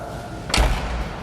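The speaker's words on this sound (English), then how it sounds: "open up the door," A motor grader's cab door is swung open and latched back, giving a single solid metallic thump in an otherwise steady background.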